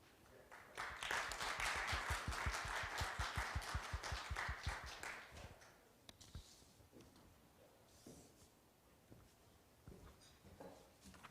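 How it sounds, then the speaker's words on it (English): An audience claps to welcome Indonesia's trade minister at the signing of the Indonesia–Korea trade agreement, a burst of dense, rapid applause that swells quickly, holds for several seconds, then thins out and dies away into a quiet, sparse room. "Please welcome him with a warm round of applause."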